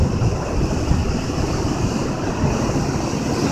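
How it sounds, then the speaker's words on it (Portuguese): Rough, stormy sea surf pounds Guarujá beach in a steady, loud roar of breaking waves, with wind buffeting the microphone and no voices. "tá vendo que tá mó bravo, o mar, olha lá, ó."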